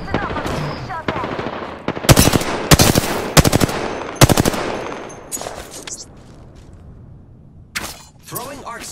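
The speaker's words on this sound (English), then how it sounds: "The enemies are shooting at me." Enemy gunfire in a video game shooter: bursts of automatic weapon fire cracking out in loud, rapid clusters, with sparse single shots and brief quieter gaps between volleys.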